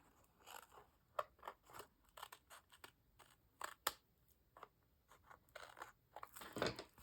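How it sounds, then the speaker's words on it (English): Scissors snipping the edge off a glossy magazine image, a quick series of crisp close cuts and paper crinkles at an irregular rhythm, quiet with no talk. "From here, I'm going to cut that edge off here."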